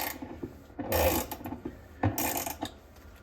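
Top-load LG washer pulsator being tightened back into place, giving two bursts of ratcheting, grinding mechanical clicks and rubs, close and moderately loud, with quieter knocks and handling noises between them.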